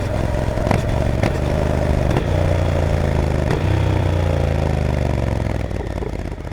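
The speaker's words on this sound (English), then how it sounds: "I see no reason to use anything but this method for capturing onboard audio of my Speed" A Speed motorcycle engine captured onboard while riding, a loud steady mid-pitched drone with rising and falling engine tones, periodic sharp clicks or gear knocks, and wind rush throughout, no voices.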